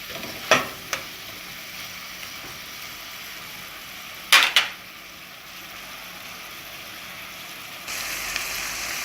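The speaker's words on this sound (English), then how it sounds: "I'm gonna allow the saltfish to saute about a minute or 2 before adding the butter beans." Saltfish sautéing in a pan for Jamaican saltfish and butter beans, a steady close sizzle with a few sharp scraping stirs of a utensil, no talking.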